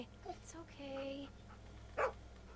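A dog in the video game Walking Dead Sea gives a few short faint barks and whimpers over a low game hum, with one sharper yip near the end.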